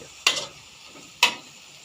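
Broccoli stir-fried in a pan, with two distinct scraping stir strokes about a second apart over a faint background.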